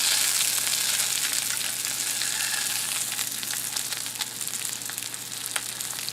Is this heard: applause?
no